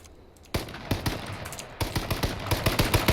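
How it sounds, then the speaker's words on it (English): Rapid gunfire bursts from a battle royale video game, a quiet lull followed by repeated loud sharp shots in quick clusters, close and continuous with no talking. "Dingus firing down on Tuca finally"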